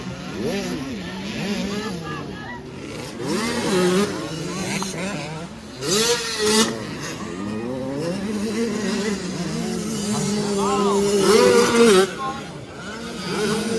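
65cc motorcycles racing in a final, their small engines revving and whining up and down in pitch as they pass, heard under a commentator's continuous talk.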